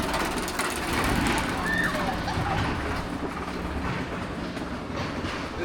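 A Reverchon Wild Mouse spinning roller coaster train runs along its track at Fårup Sommerland, giving a steady rumbling rail clatter and wind roar from an onboard rider position throughout, with faint voices mixed in.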